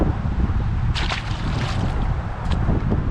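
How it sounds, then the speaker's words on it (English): Steady roaring wind at a reservoir buffeting the microphone, with low rumbling gusts and faint splashing water throughout, no voices. "Man, it is so windy."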